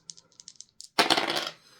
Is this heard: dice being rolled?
yes